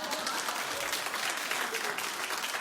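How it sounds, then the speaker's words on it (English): Studio audience clapping on a daytime talk show, a loud, dense and steady burst of applause that fills the whole moment. "Clap."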